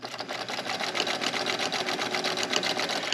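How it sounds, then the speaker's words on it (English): A sewing machine runs steadily stitching a quarter-inch seam on a fabric bunny, a fast, even mechanical whir with a rapid needle rhythm, close and continuous throughout with no talk. "then we want to sew a 1/4 inch seam"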